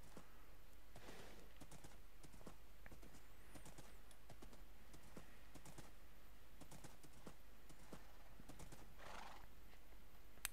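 Horses in Minecraft, with a golden horse among them: soft game hoof clip-clops and neigh-like calls scattered over ten seconds beside light keyboard tapping, low and fairly quiet, with no talking.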